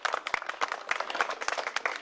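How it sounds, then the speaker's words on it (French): Sustained applause from an audience for the president of a journalists' association at an open-house event in Congo-Brazzaville, dense steady clapping with no voices over it. "Les applaudissements appuyés pour le président de l'association des journalistes."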